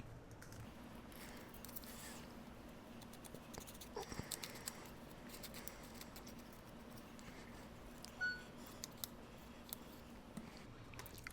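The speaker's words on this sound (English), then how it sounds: "Oh my goodness, do y'all hear it rain?" Rain falling outside, a steady soft patter and hiss that continues without a break, faint and distant, with a few small clicks and taps over it.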